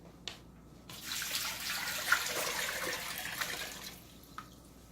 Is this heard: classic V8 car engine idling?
no